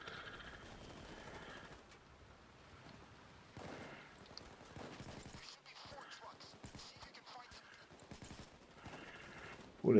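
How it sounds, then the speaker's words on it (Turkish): Police open fire in PAYDAY 2 during the Green Bridge heist, where a bridge has been blown up. Scattered gunshots crack in sharp bursts under a voice talking over most of the stretch. "Bu arada polisler bakın ateş açmaya başladılar bile bize."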